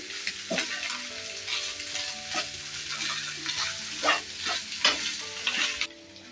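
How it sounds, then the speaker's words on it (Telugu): Egg burji with half a teaspoon of garam masala sizzles in a pan and is stirred often, with repeated spatula scrapes over a steady frying hiss and no talking. "గరం మసాలా వేసుకొని బాగా ఫ్రై చేసుకోవాలి."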